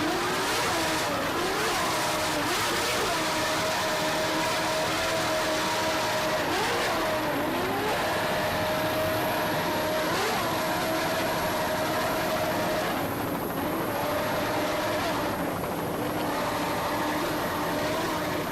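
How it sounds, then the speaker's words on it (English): Racing powerboats with Stotler inboard motors roar loudly and continuously during a 1990 Point Pleasant race, engine pitch repeatedly dipping and climbing as the throttle is worked. "Stotler's doing an excellent job on the throttles, commanding his Stotler inboard motors. Just listen to these things go right at this point in the race."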